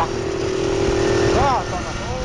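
Mopeds ridden on a road give a loud, buzzing two-stroke drone that holds steady, then eases off near the end, with a voice-like warble briefly rising over it.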